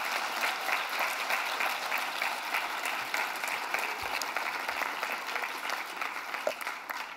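Sustained audience applause fills a hall at an official ceremony of the Essonne department council, a dense, steady wash of many hands clapping for the whole stretch without any talk.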